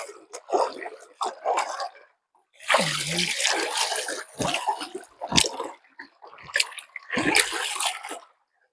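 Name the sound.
river water flowing while bathing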